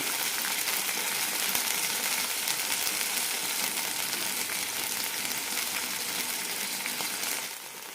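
Chopped tomato and green chillies sautéing in hot oil for a mint leaf chutney, a steady dense sizzle that holds evenly throughout and drops off slightly at the very end.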